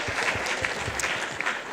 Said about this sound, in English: can we give him a round of applause for remembering her name?